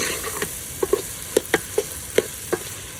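Dried fish curry in a pan, stirred with a utensil: soft scrapes and clinks land at an irregular pace over a faint background sizzle, close and fairly quiet, with no talking.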